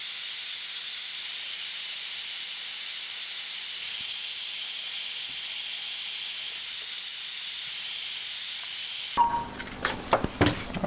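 A heat gun's steady airy hiss runs throughout while heat shrink tubing is warmed over a crimped wire terminal on a 1966 Chrysler New Yorker, ending in a few sharp handling clatters near the end.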